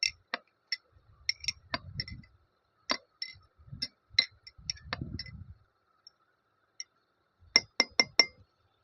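Sharp glassy clinks and taps come from a glass container as water is gently stirred, in sparse, irregular close strikes with soft swirling in between and quiet gaps.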